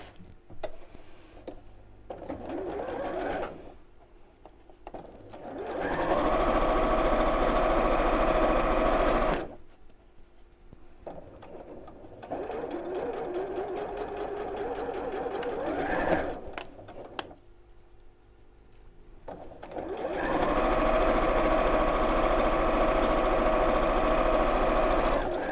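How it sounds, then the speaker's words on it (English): A sewing machine stitches a patchwork cushion cover in three long steady runs, a close, even mechanical whir broken by short pauses with quieter handling between bursts. "And let's sew."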